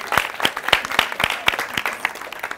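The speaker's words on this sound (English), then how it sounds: "Let's give a round of applause for ourselves." Audience applause from a group gathered for a women's breast and cervical cancer sensitization event: dense, moderately loud clapping that holds steady from start to finish.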